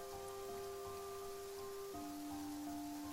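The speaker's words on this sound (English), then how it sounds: "it's raining again." Steady rain falling in the video game Genshin Impact, a dense even hiss of drops on surfaces with a soft ambient tone underneath, continuous throughout with no talking.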